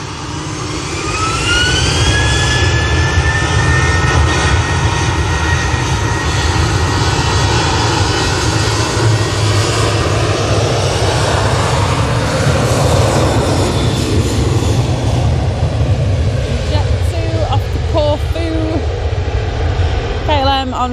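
An airliner on final approach inbound from Amsterdam roars loudly and steadily at Manchester Airport, the broad engine rumble holding from start to finish while a voice talks briefly underneath.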